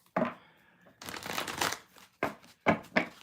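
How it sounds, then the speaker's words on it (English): A tarot card deck shuffled by hand in several quick riffling bursts separated by short pauses, close and crisp. "One last deck to shuffle."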